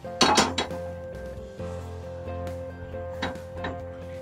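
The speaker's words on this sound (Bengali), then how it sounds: "ফ্রাইং প্যানটা বসিয়ে দিই।" A metal frying pan set down on a gas stove in a home kitchen: a sharp clatter of cookware, then a few lighter knocks and clinks over a steady low hum, with no talk.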